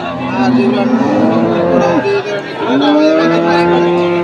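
Crossbred cattle moo loudly and close by at a cattle farm in Tangail, Bangladesh, several long overlapping calls one after another with a brief gap midway.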